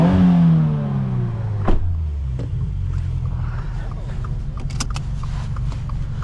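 A Subaru WRX turbo engine revs and falls away as a low rumble, heard from inside the car during a drive at a car meet, with a few sharp clicks and knocks over the steady drone.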